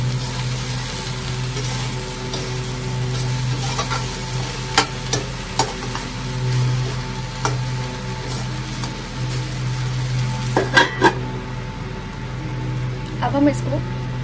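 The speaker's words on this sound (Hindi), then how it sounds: "अब हम इसको मिला लेंगे अच्छे से।" Masala okra (bhindi) sizzles and fries in a pan while being stirred, a steady hiss with scattered scraping taps of the spoon, close by.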